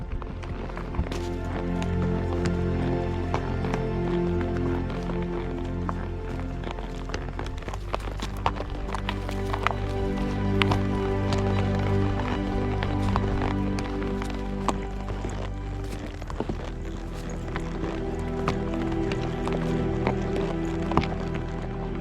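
Horses' hooves walking and trotting over rough Montana timber country on a cattle drive, a steady continuous clatter of footfalls with outdoor noise throughout.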